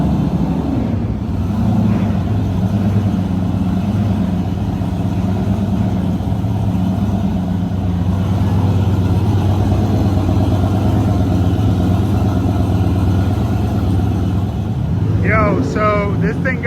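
Car engines idle at an Orlando Cars and Coffee meet with supercars, sports cars and muscle cars, a steady low rumble filling the whole stretch and a voice breaking in near the end.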